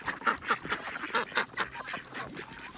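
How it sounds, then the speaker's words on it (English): A flock of domestic and hybrid ducks quacks in quick, nasal bursts, several calls overlapping in an uneven rhythm, fairly close but moderately quiet with no talk. "Bye, ducks."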